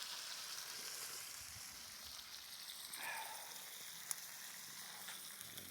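Steak frying in a pan at a campsite in Chapel-en-le-Frith, a steady soft sizzle and crackle held low and even throughout, with one sharp click near the end.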